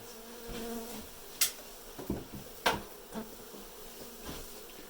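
Honey bees during a hive cutout in Dorrance, Kansas, humming steadily in the background while several sharp knocks and thumps from the work cut through, fairly quiet overall and with no voices.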